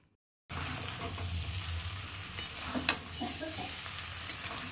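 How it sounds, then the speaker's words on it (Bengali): Fried jackfruit and potato are stirred into a cooked spice mix in a pan, giving a steady close sizzle with a few scraping and clinking stir sounds on top, and no talking. "এরপর ভেজে রাখা ইঁচড় আর আলুটা দিয়ে দিচ্ছি মশলার মধ্যে"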